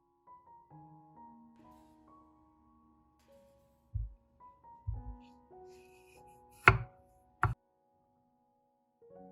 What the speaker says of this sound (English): cut a sprouted potato